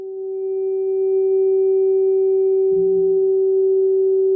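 A sound healing instrument holds a single sustained G tone, pure and steady, swelling in over the first second and ringing alone with a faint low thump partway through.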